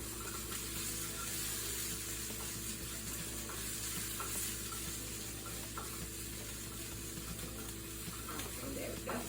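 Omelette with peppers and onions cooking in a pan, a soft, steady sizzle of frying that runs quietly and evenly throughout with no one talking.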